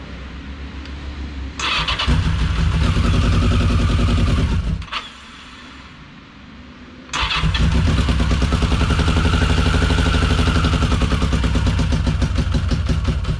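A 1982 Yamaha XJ650 Maxim motorcycle, left sitting for five years, cranks and catches into a loud, rough running engine, drops back to a quieter idle, then revs up strongly again and keeps running close by.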